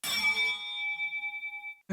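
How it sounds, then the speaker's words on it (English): A dinner bell gives one bright metallic ding that rings out and slowly decays over about two seconds, close and clear. "So this is what the bell sounds like."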